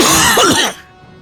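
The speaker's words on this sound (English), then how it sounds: "I know that was a cough" A single loud, harsh cough close by, ending abruptly into near silence.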